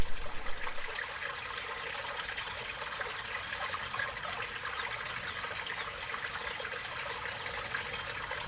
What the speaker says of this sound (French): c'est là que ça se met à couler